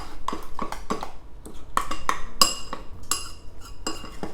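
A utensil clinks and scrapes repeatedly against a bowl of chocolate and melted unsalted butter in an irregular rhythm, close and fairly loud, with no talking.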